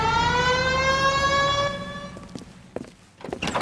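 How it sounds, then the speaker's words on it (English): A police car siren in the video game L.A. Noire wails loudly with a sweeping rising tone, then cuts off and gives way to a few thumps and clatter. "Hit the siren."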